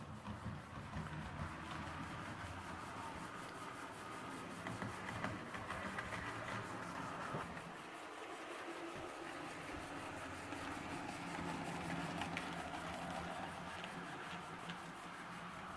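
Quiet, steady mechanical hum and whir of a model train locomotive running along layout track, with faint rhythmic clicking throughout.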